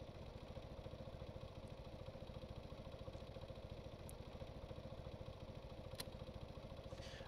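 An engine in the sandbox vehicle game Stormworks runs at a steady rhythmic idle, quiet and even, with a few faint clicks over the top.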